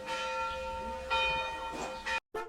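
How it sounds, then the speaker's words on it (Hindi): Bells ring close by in a short burst of bright, sustained metallic tones, with several strikes overlapping and a brief gap near the end. "घंटियों के बजने की आवाज़"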